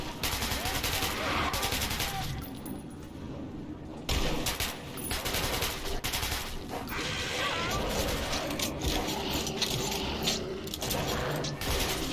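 Sustained gunfire and clanking mechanical noise in the first-person shooter Metro 2033 Redux, dense and continuous for the full stretch with a brief lull, with shouting voices mixed in.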